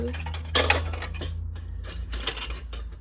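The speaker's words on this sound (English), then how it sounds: "And I also have so many whisks." Metal baking whisks of various sizes being picked up and handled in a home kitchen, producing light clinking and rattling clatter in a few bursts, close and fairly quiet.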